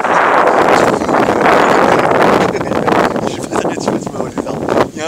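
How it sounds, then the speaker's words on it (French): Strong wind buffets the microphone of an Akaso Brave 7 LE action camera outdoors, loud rumbling gusts that surge and ease over several seconds. "Il y a un vent de dingue"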